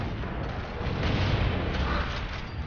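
A sniper rifle shot rings out in the Gears of War video game, a dense, booming burst of gunfire sound that fills the short stretch at a steady loudness with no voices over it.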